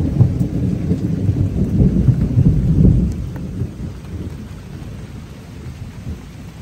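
Thunder rumbles low and heavy over light rain falling outdoors in New York City, loudest for the first three seconds before easing into a softer steady patter.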